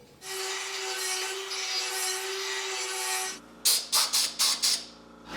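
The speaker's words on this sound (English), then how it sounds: "The burr is so fast." A fast burr grinds the metal blade of a handmade Viking sword in a loud, steady, continuous high whine for about three seconds, then breaks into four short, sharp bursts as it touches the steel again and again.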